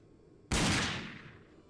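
One loud gunshot in the video game RAGE, a sharp crack followed by a long decaying echo, heard alone.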